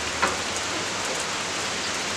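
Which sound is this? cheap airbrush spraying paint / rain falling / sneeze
rain falling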